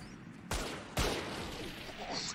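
Gunfire in the Valorant video game: two sharp, loud shots about half a second apart, followed by a lingering noisy game ambience.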